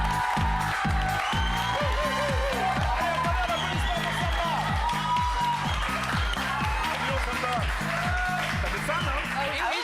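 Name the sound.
audience applause and cheering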